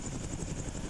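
Helicopter rotor din in the Arma 2 military game, a steady loud thumping wash that fills the whole moment without any pauses or voices over it.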